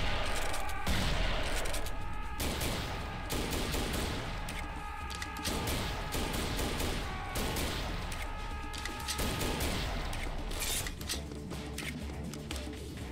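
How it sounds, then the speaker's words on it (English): Rapid bursts of heavy gunfire from the shooter game Serious Sam 3, loud and close, with booming blasts and crashing impacts coming in irregular clusters throughout, no voice over them. "I think I'll use a shotgun"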